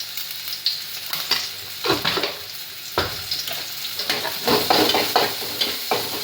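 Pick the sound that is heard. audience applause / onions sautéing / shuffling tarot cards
onions sautéing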